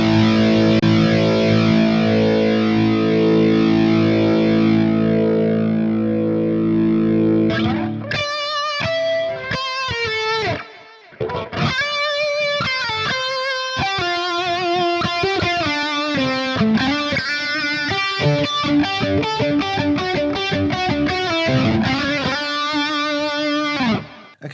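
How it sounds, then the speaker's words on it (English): Electric guitar run through two stacked drive blocks on a Hotone Ampero II Stomp modeler: loud, saturated sustained chords open the passage, then a busy distorted lead line with quick picked notes and bends plays alone. "I'm also going to add in another drive block so that we can switch between two different drives."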